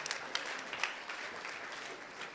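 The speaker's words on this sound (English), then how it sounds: "Big applause to everyone." Audience clapping at a conference main stage, a fairly faint, scattered round of applause with a few sharper claps standing out, steady throughout with a voice faintly present.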